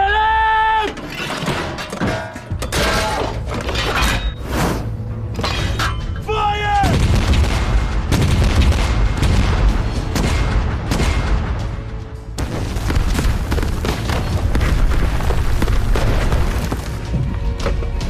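Heavy artillery cannon fire on a snowy mountain battlefield in a Korean War film, with loud booming blasts and crashing debris, mixed with shouted voices and a rumbling, continuous battle din.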